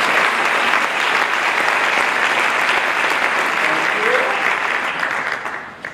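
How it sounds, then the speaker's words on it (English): Sustained applause from an audience honoring a man's work on a house, a steady dense wash of clapping that stays loud throughout before thinning at the very end. "Applause, everyone."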